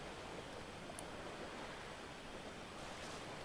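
Steady, wide hiss of ocean surf rolling on without a break in the video game Dear Esther, even and continuous at a moderate level, with no voices.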